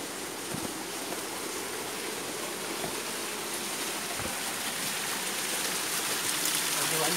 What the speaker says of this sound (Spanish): Este riachuelito va a desbocar allá abajo, donde suena de lejos el río.